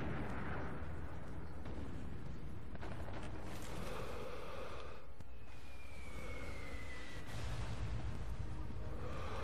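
Mortar shells burst one after another in Sniper Elite V2, with heavy rumbling blasts and debris running steadily through the whole stretch over constant battlefield noise, no voices.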